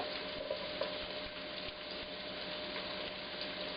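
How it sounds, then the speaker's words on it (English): Onions sizzling and caramelizing in a hot pan for a homemade spaghetti sauce, a soft steady frying hiss with faint stirring, quiet and close with no talk. "you're going to get caramelization on your onions, because you have kept them in the heat long enough"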